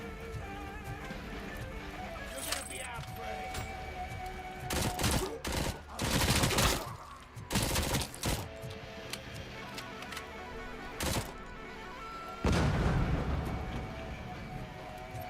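The basic gun firing in a Robocop video game, heard as sharp broadband bursts. Some come as single shots and others as rapid clustered volleys, with quiet ticking game sounds in the gaps.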